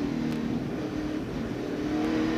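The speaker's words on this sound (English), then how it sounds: "listen to that truck as they go over that curve" A 1999 NASCAR racing truck pounding over a curve at Portland International Raceway, its engine a steady loud roar with a sustained droning tone and no talking.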